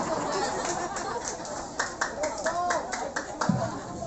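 An audience claps at a humorous Islamic sermon on marriage advice, scattered rhythmic claps mixed with crowd chatter and talking.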